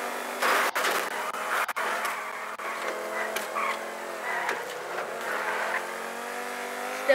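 A supercar engine in GTA 5 stock car racing drones steadily at high revs, a continuous moderately loud whine with small pitch shifts and no talking.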